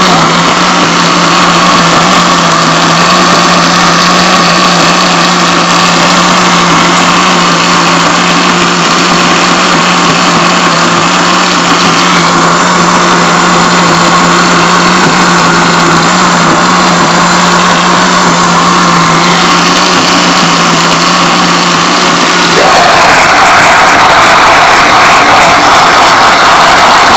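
A kitchen blender whirs loudly and steadily, blending an energy detox juice until smooth, its motor pitch shifting briefly near the end with no talking.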